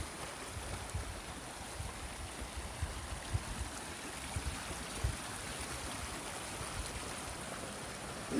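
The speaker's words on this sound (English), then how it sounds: "Trail just follows this beautiful little river, stream, brook, whatever." A small river beside a hiking trail on the Pacific Crest Trail flows steadily, a soft, continuous rushing and babbling with faint gurgles, heard alone at a low, even level.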